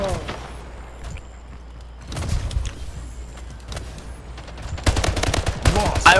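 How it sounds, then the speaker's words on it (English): Gunfire in the video game Slipgate multiplayer, rapid bursts of shots in clusters, loudest in a dense volley near the end, with game sounds between. "I was shooting him with the wrong gun"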